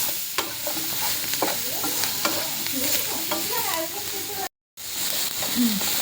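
Tomato masala frying in a pan while being stirred, a steady loud sizzle with repeated scraping strokes, close up, with a brief dropout near the end.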